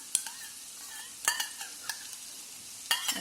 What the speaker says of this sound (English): And add in the masala paste. Cook for a minute. The oil has started separating.